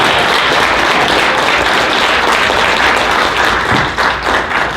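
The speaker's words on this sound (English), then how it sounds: "Give him a round of applause" Loud, dense applause from an acting workshop audience fills the space, a continuous wash of clapping that tapers slightly at the end.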